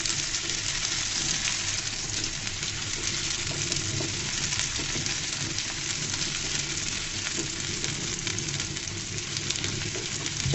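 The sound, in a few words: chopped onions frying in hot oil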